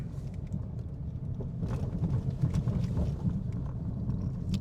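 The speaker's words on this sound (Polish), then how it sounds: "średnio głośna praca zawieszenia" Suspension working over potholes inside a 2025 Kia Ceed 1.5 with a 7-speed automatic, heard from the cabin as a low rumbling drone with scattered soft thumps and knocks, moderately quiet and steady throughout.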